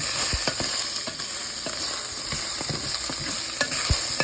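Chicken fries in a pan with garlic, ginger and onion, a steady sizzle broken by repeated scraping knocks of a utensil stirring against the pan, close and fairly loud with no talking.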